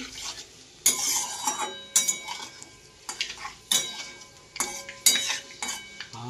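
Panch phoron spices stirred in a metal cooking pan for a small-fish and drumstick dish, with a spoon scraping and clinking against the pan in sharp bursts over a soft sizzle.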